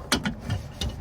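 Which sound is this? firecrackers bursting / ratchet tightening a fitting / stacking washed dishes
ratchet tightening a fitting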